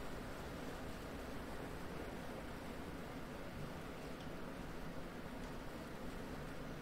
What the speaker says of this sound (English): It's actually a quite nice waterfall there.